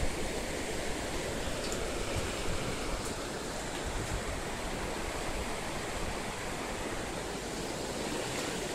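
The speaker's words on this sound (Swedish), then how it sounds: "Vad finns det att säga om den här floden då?" Steady broadband rush of a river flowing under a bridge, loud and continuous with no pauses, heard alone without voices.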